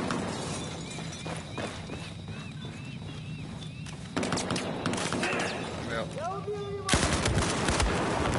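Video game gunfire crackles as bursts of sharp shots, some in rapid automatic runs, set against a busy battlefield din with voices calling out over it.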